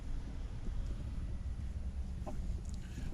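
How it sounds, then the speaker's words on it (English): Backyard hens cluck in short scattered bursts over steady wind noise buffeting the microphone, fairly close but not loud. "Let's go look at the hens."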